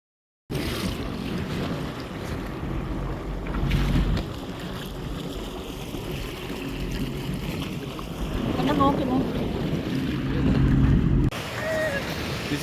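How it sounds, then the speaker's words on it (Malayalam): Sea waves surge and slap around a jet ski crossing open water near Langkawi's mangroves, a continuous rushing wash with engine drone and wind buffeting throughout. "This is very normal waves എന്നാണ് പറഞ്ഞത്."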